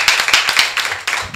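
Audience clapping at a documentary forum gathering, with loud, close, uneven claps from a group of hands carrying on steadily through the moment.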